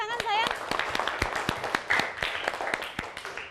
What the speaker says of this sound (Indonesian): Oke, tepuk tangan sayang.